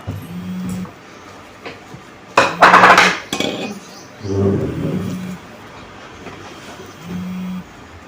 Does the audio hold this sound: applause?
no